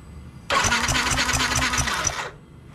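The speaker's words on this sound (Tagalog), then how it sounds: "So yung magsa-start ng motor para makita natin kung may spark yung spark plug natin." A motorcycle engine is cranked and fires up during a spark plug test, running in a loud, close, knocking idle for about two seconds before cutting off abruptly, with no talk over it.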